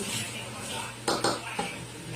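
A spoon or utensil mixes a creamy fruit salad with cheese in a bowl, producing soft wet stirring with a few sharp clinks against the bowl near the middle, close by, with faint background voices.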